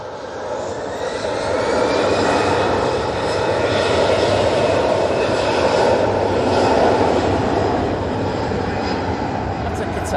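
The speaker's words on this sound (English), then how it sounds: "EasyJet's about to spool up." EasyJet airliner jet engines spooling up at Manchester Airport during a storm, a loud sustained roar with steady rumble that swells slightly and holds throughout, no talk over it.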